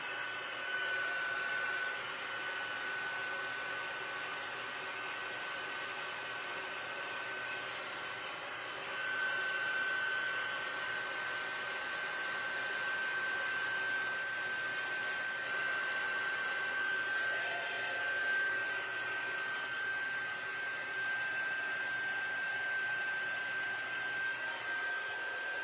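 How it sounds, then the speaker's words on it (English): A heat tool used for heat embossing blows continuously for about 25 seconds, a steady quiet whooshing hum with a thin whine running through it. "now I'm gonna grab my heat tool and do some heat. We're gonna emboss it."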